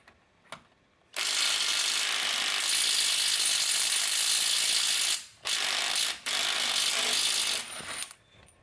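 An HL Premier 1/2-inch ratchet handle loosening a bolt, a dense rapid clicking of the pawl in long sustained runs, broken by two brief pauses, close and fairly loud with a few separate clicks at the start.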